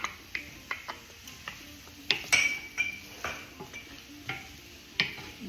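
A utensil stirs carrots and Brussels sprouts with olive oil in a pan, giving steady clicks and taps at a fairly even pace with a faint sizzle underneath.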